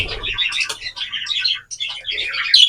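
African lovebirds of the masked personata type chirp continuously in a flight cage, a busy, close flock of overlapping high tweets and calls with hardly a pause.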